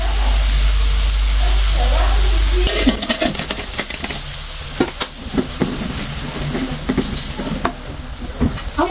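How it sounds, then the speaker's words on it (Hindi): Oil poured into a pan holding finely chopped onions for a fish curry, starting with a steady loud hiss, then crackling and sizzling with stirring scrapes and pops. "और अब हम डालेंगे इसमें ऑयल।"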